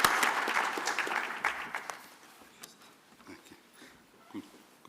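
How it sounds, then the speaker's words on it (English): An audience applauding at a national space conference plenary, loud clapping at first that thins out and fades to scattered claps, with a few faint murmurs near the end. "Please give a warm round of applause for Habo."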